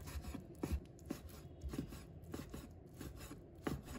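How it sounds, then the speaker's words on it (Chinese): A knife chopping tofu and meat into small pieces on a cutting board, quick steady taps repeating close and quiet with no talking. "然后切成小粒"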